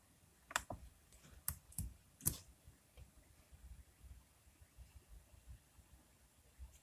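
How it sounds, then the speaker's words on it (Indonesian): Computer keys pressed in a quick cluster of sharp clicks for the Ctrl, Shift and Del combination, a few distinct taps close by and fairly quiet, followed by a faint low background hum. "Caranya tinggal tekan saja Ctrl Shift Del di keyboardnya."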